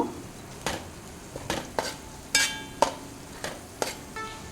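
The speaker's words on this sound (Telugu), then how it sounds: "ఇందులో ఇప్పుడు నేను ధనియాలు జీలకర్ర పొడి వేస్తున్నాను" Onions frying in a pan as coriander and cumin powder go in, with a soft steady sizzle broken by several sharp spoon stirs and scrapes against the pot, close by, with no talking.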